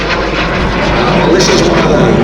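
A Hunting Percival Jet Provost T5 jet trainer roars steadily at an air and car show, loud and continuous throughout the short stretch, with a faint rising whine near the end.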